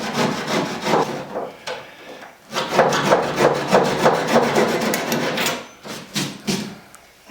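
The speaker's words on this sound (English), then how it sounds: "just going to use a simple flush cutting saw here to just cut away the overhang of the" A simple flush-cutting hand saw trims the overhang of a fiberglass tube on a PT11 boat build, producing close, rhythmic rasping back-and-forth strokes in uneven bursts with short pauses, and no talking.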